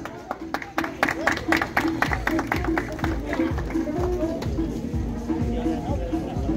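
A crowd at a patronal festival mail parade applauds the crowning of the festival queen, with rhythmic clapping, crowd chatter and a voice over a loudspeaker.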